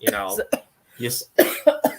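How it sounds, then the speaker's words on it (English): A person coughs several times in short, harsh bursts, close to the microphone, with a brief voiced sound mixed in. "first I'm sneezing and now I'm coughing"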